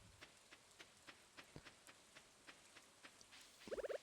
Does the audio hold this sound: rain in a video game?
yes